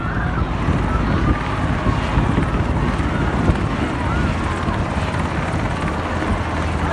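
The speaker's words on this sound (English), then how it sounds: "Helicopter, all right." A Coast Guard helicopter flies overhead, droning steadily with a dense, rumbling rotor wash and some wind noise, loud and continuous throughout.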